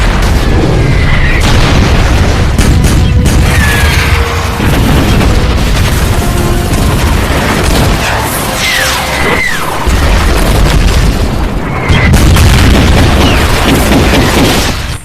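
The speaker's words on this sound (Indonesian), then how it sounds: "Meriam-meriam yang baru didatangkan Qing dari negara barat beberapa waktu lalu kini digunakan dalam" Cannon fire in a battle to crush a rebellion, using Western-made cannons newly brought in by the Qing army: repeated heavy booms and crashes pile up into a dense, continuous barrage with no pauses.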